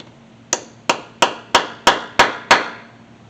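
Seven sharp metallic hammer strikes on a center punch set against a bolt on a 1977 IH Scout, evenly spaced about a third of a second apart, each with a short ringing decay, close and loud.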